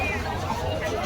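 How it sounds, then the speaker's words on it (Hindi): A busy crowd at Bodla village market in Chhattisgarh, with dense overlapping chatter and general hubbub filling the space continuously at close range. "और आगे देख सकते हो पूरा भीड़ है।"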